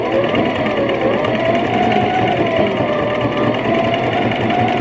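A sewing machine runs continuously as it stitches fabric, a steady loud mechanical whirring hum with a fast regular needle rhythm held for several seconds.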